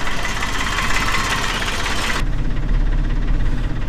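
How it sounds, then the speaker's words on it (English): A tractor running a single-roller grain mill through its PTO for rolling cattle feed, a loud steady engine drone close by with mechanical rattle, its bright hiss cutting off midway while the low rumble continues. "So we just put the PTO in gear, and that will then start that single roller turning."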